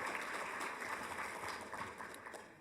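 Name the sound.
applause for the speaker's children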